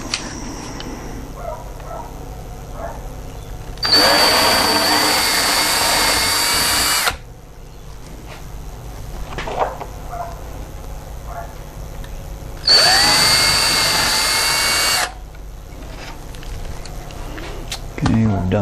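A power drill with a 3.65 numbered bit bores into part of a model P-51 wing, running in two steady bursts of a few seconds each, loud and close, with quiet handling noises between them.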